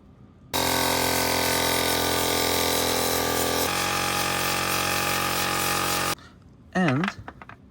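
An AliExpress electric foam sprayer, the new V2 model, whirs loudly and steadily for several seconds with a pitch drop partway through, then cuts off abruptly; a brief voice follows.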